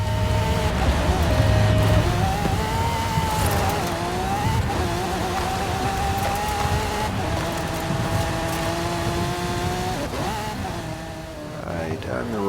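A racing video game car, a Fiesta, runs at high revs with rising and falling engine pitch as another vehicle gives chase, with occasional tire noise and a voice talking over the motor throughout.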